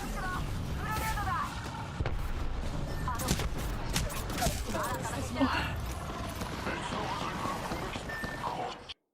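Gunfire in the video game Apex Legends: bursts of shots and mechanical clicks run under steady talk from players throughout.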